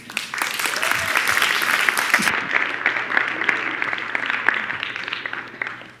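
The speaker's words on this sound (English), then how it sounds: "So a round of applause for yourselves." Audience applause at a festival session, a full room clapping steadily and densely for several seconds, fading slightly toward the end.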